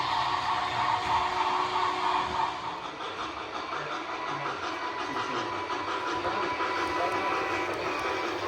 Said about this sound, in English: I am going to leave it off with just a few run-bys of this locomotive.